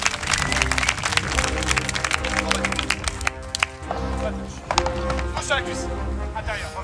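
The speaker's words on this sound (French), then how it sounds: "applaudissez" An audience applauds a fencing demonstration with a rapid crackle of many hands clapping, fading briefly and then picking up again, as a voice talks over it.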